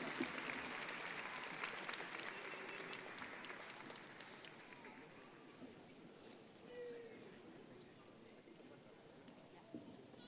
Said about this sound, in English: let's have another big round of applause for all of our doctoral graduates